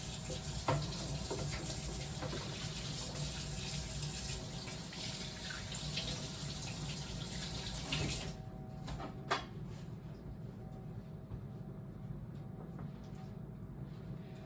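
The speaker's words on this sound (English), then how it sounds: "Okay, wash your hands one more time." A kitchen tap runs steadily as hands are washed, a constant close rushing hiss for about eight seconds that then cuts off, leaving faint clicks and handling noises.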